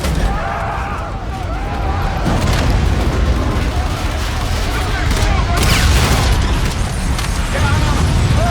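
Frag grenades and heavy fire in the shooter game Call of Duty: Infinite Warfare, a dense, loud wall of booming blasts and bursts throughout, with shouted voices in the mix.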